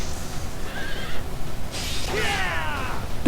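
A horse in the video game Fire Emblem: Three Houses whinnies twice, the second neigh louder and longer, over a steady low rumble of game background noise.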